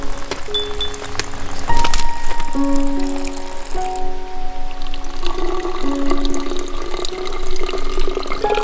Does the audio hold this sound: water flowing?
yes